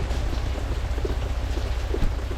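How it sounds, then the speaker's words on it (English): Steady, heavy rain pours continuously during a hurricane, a dense unbroken hiss with faint low rumbling beneath and occasional soft splashes, with little wind. "Just continuous rain,"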